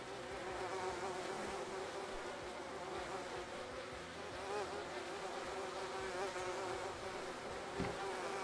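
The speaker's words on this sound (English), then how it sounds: "And then you just add the bees." Swarm of bees buzzing steadily in the survival game DayZ, a dense continuous drone of many insects around beehives, close and even in level with no talk.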